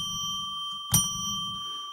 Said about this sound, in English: I will now ring a bell 3 times to declare that we are entering sacred space.